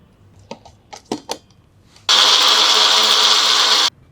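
Blender grinding carrot juice with pomegranate and water, starting after a few knocks and clicks, then running loud and steady for nearly two seconds before cutting off.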